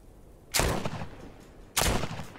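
Two loud, sharp gunshots from The Walking Dead Saints & Sinners, roughly a second apart, each with a broad crack and a short echoing decay, fired close by with no talking.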